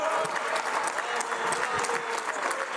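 Applause in the Senate chamber after a senator's speech, a full burst of many hands clapping with crisp individual claps, fairly close and steady.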